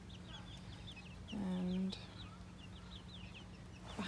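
A few hens in a coop cluck and chatter softly, with a louder hen call standing out briefly near the middle over steady low background hum, and a short spoken word at the end.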